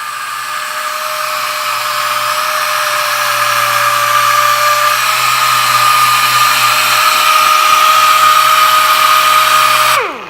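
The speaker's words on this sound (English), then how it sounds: "I'm focusing a little more on the outside of the sander, and then once I'm done, once I get the halo big enough, I'll just come across and do a flat sand" A powered drywall sander works an ArmourFill integral-color patch, a loud steady motor whine with a constant tone and rasping sanding hiss for about ten seconds before it spins down.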